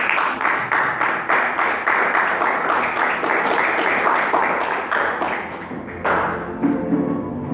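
Church congregation clapping in praise, rhythmic unison handclaps at a brisk steady beat, loud and near, carrying on for several seconds before trailing off.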